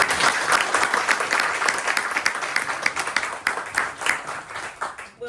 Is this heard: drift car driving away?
no